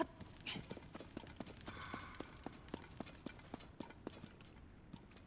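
Horse hooves clip-clop at a steady, even trot while riding in the video game Tears of the Kingdom, moderately close, with a voice briefly heard beneath the beats.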